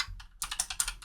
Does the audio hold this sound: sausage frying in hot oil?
no